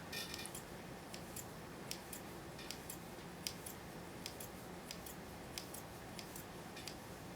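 Scissors cut through hair at an angle while trimming face-framing layers, making a run of faint, crisp snips repeated at an irregular pace over a quiet background.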